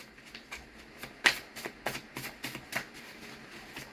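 Tarot cards being shuffled by hand, a quick series of crisp riffling flicks and soft slaps in a quiet room, irregular and close, with no speech.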